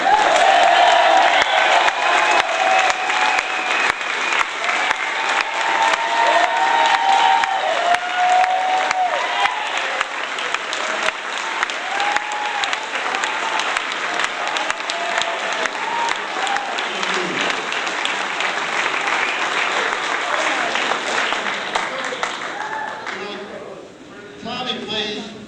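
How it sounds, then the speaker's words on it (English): A comedy club crowd in San Francisco applauds a comedian with loud, sustained clapping mixed with some cheering, then the applause thins and fades out near the end. "You have to stand up and really give him a round of applause."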